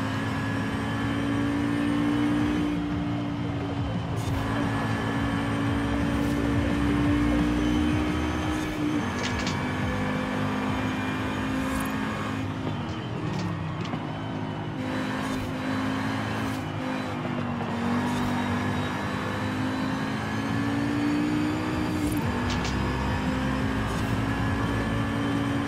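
A 2018 Audi TT RS engine in Forza Horizon 5 plays as a steady, loud, continuous drone with rising and falling pitch through gear changes and sharp shift blips, with no voices for the whole stretch.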